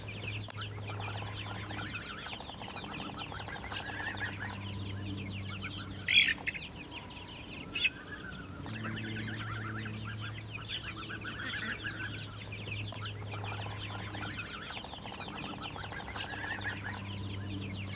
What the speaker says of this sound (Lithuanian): Ūgtelėję paukšteliai, kaip ir jų tėvai, lesioja žolytę, renka mažus kirminiukus ir vabaliukus.